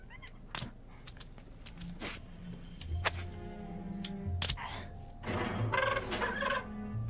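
In The Lord of the Rings: Gollum, a bird gives brief calls among clunks, thuds and other game sounds, with low ambient rumble and short bursts of activity throughout.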